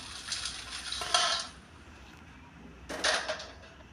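Dried red chillies roasting in a pan, stirred with a metal spoon, giving two short bursts of scraping and rattling against the pan with quiet pauses between, close and fairly soft.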